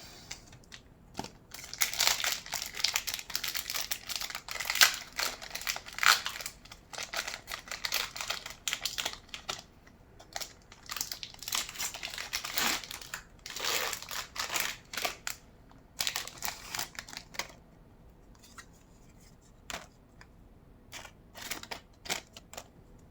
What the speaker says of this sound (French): je vais ouvrir les boosters et on verra après